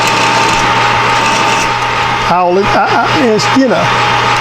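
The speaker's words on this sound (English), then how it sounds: "Anytime you're drilling and not sure, you can always drill slower." A steady, low mechanical whir runs throughout, like a drill turning slowly. A voice joins it partway through.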